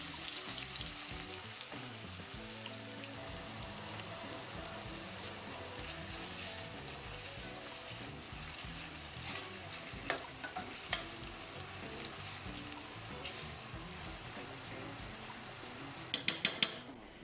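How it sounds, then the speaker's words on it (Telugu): Thinly sliced onions frying in oil, with a steady dense sizzle throughout, faint and even, broken by a few soft stirring clinks near the end. "ఈలోగా మనం సన్నగా తరిగిన ఉల్లిపాయ ముక్కలను నూనెలో వేసి వేయించుకోవాలి."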